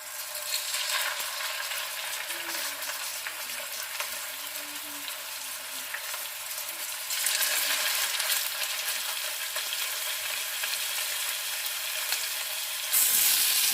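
Salmon pieces fried in hot cooking oil, giving a continuous close crackling sizzle that swells louder as more pieces are laid in, with a faint scrape of a utensil and no talking.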